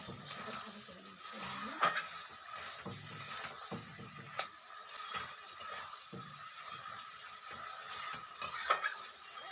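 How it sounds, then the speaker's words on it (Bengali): Pre-fried potatoes frying with spice masala in a pan, a low steady sizzle with intermittent scraping and clinking stirs of a spatula against the pan, fairly quiet and close. "এই আলুটা দিয়েও আমি মশলার সাথে আরও 3-4 মিনিট কষিয়ে নেব"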